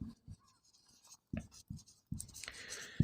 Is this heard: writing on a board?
yes